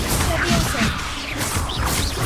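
Confringo spell cast in the Hogwarts Legacy video game, a dense burst of fiery blast and crash effects with swooshing magic over rumbling game noise, loud and continuous for a couple of seconds.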